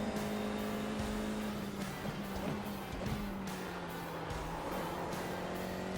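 A race car pulls out of a constant-radius right-hand turn under throttle, its engine a steady droning whine that holds level with a slight pitch drift, heard from on board with no speech.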